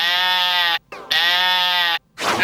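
A boy imitates a sheep, giving two long, loud, wavering bleats close up, separated by a short breath.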